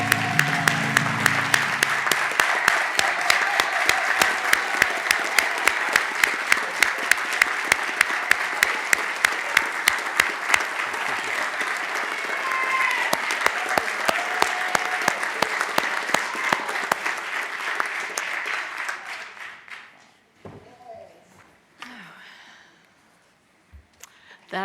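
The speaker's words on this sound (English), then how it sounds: "Let's give you a large applause." A meeting audience gives an honored employee a long, loud round of applause with crisp individual claps, sustained for about twenty seconds before thinning out and fading to quiet.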